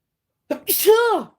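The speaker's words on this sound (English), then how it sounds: "oh, I got to sneeze" A single sharp sneeze, close and loud, starting with a quick intake and ending in a drawn-out voiced exhale, in otherwise silent surroundings.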